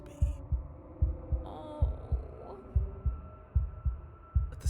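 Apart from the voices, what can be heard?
heart beating with unbroken rhythm in the video game Slay the Princess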